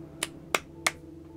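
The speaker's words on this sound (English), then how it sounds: "that's clapping" Three sharp, crisp claps ring out at an even pace in Fallout 4, each one a quick isolated crack over a faint steady hum.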